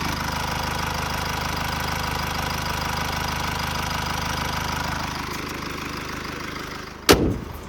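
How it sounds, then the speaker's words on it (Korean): A 2018 Mercedes-Benz E-Class engine idling steadily with an even low rumble, then a sharp loud click or thump near the end. "자 바로 엔진음 들려드릴게요"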